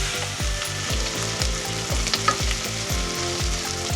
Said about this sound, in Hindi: प्याज को हल्का गोल्डन करना है